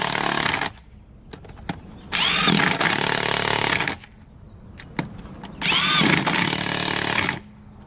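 A cordless impact wrench tightening wheel lug nuts on a Cadillac DeVille being loaded on a tow dolly, two loud hammering bursts of roughly two seconds each, close up, with quieter clicks and handling in between.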